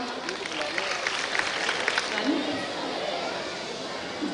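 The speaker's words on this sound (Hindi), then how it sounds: "एक बार जोरदार तालियां।" Applause from a crowd at a school Janmashtami and Grandparents Day celebration, fairly distant and moderate in level, mixed with chatter and babble from the gathering.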